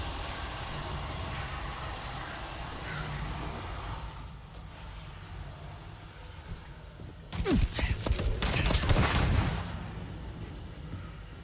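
A burst of turret gunfire in the video game Starfield hits in a dense rapid volley lasting about two seconds, loud against low ambient game noise, with a player talking before it.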